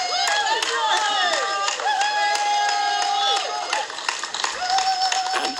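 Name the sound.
crowd cheering and clapping for 102-year-old abseiler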